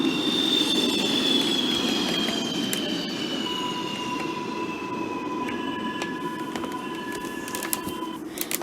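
Simulated NYC subway train running through an underground tunnel in the Open BVE train simulator game, a steady loud rumble with high wheel squeal and long whining tones, continuous throughout with no voices.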